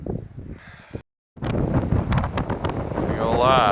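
Strong wind roars and buffets outdoors high up in a tree stand on a hunting trip near Antlers, Oklahoma, starting after a brief silence as a loud, steady rush of noise.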